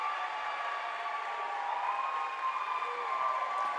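A high school basketball crowd at a playoff game between Barnesville and Malvern cheers and applauds after a made free throw, a steady, moderately loud roar of voices and clapping sustained throughout.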